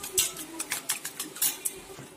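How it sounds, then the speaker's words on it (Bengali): A utensil rapidly beating two eggs with a pinch of salt in a bowl, giving quick, irregular clinks and taps against the sides that carry on without pause. "আমি ডিম দুটোতে সামান্য লবণ দিয়ে ডিম দুটো ভালোভাবে ফেটিয়ে নেব।"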